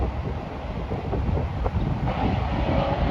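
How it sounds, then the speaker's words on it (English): A BNSF autorack freight train with four locomotives rumbles past outdoors, a steady, fairly close roar of rolling cars mixed with wind buffeting the microphone. "it's an autorack train up at BNSF with 4 engines"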